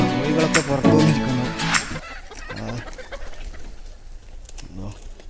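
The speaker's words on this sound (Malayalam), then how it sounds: "കോഴികളൊക്കെ പുറത്തു വന്നിരിക്കുന്നു." Native chickens cluck and call near a farm coop in Dibba, Fujairah. Busy fowl sounds come in a loud opening burst, then scattered clucks continue more quietly while a person talks.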